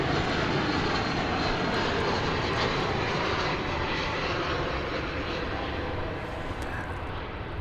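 A jet airliner at DFW Airport rumbles loudly and steadily, a dense broadband engine roar that holds throughout and fades a little near the end, with faint talk underneath.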